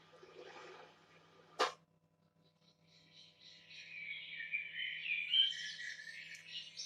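Birdsong from a relaxing-sounds track played on a smart speaker, a sharp click early on, then a steady layered chorus of chirps and trills that builds and stays moderately loud to the end.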